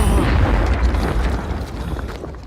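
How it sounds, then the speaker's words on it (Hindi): A loud explosion blast from a Hindi-dubbed detective film: a deep, booming rumble that fills the whole moment and slowly fades over about two seconds. "धमाका।"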